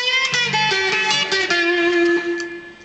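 A sustained electric guitar phrase from a song's solo, notes bent upward, played alone at moderate volume, ending on a long held bent note that fades.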